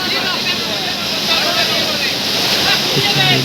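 Water rushes steadily at the Borjhora waterfall in Bongaigaon, Assam, a loud broad continuous roar filling the whole moment close by, with a voice speaking over it.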